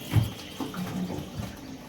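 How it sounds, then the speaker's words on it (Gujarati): Water runs from a tap into a plastic jerrycan, gurgling and splashing unevenly at close range with no voices. "બીજા કેરબા મૂકી દો એટલે પાણી ભરાઈ જાય"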